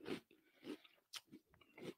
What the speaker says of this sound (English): It's good. It's crunchy. It definitely is crunchy.